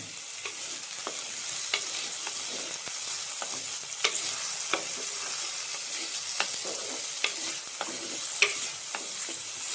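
Drumstick pieces and tomato sizzle softly in a pan while a spoon stirs them, with scattered scraping clicks over a steady frying hiss.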